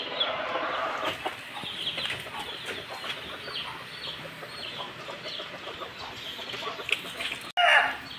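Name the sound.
pumpkin hatch chicken hen clucking while laying eggs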